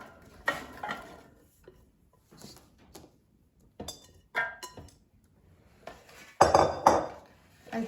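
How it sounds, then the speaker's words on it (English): Diced sweet potatoes tipped into an air fryer basket, heard as scattered close clinks and clatters against the metal basket, with one louder rattling burst near the end. "And now let's take out the air fryer basket and add the diced sweet potatoes."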